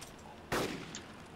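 A single sharp gunshot cracks in DayZ, loud and sudden against a quiet backdrop, then trails off in a brief echoing tail.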